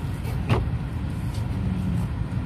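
A car drives across the city of Vladimir, heard from inside as a steady low engine and road rumble with a brief whoosh early on and no talking.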